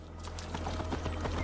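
Hoofbeats of a horse galloping in Assassin's Creed Valhalla, a steady run of close clip-clop hits over a low game hum, with no talking.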